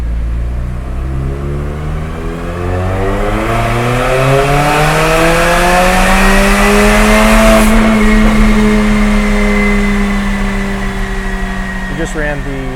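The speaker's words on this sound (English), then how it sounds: "We just ran the Armytrix in open mode, which gives it a much louder tone." Mercedes CLA 45 AMG with an Armytrix turbo-back exhaust in open mode, pulling hard on a dyno from 2500 to 6500 rpm, loud and close, pitch climbing steadily before the throttle lifts near the end.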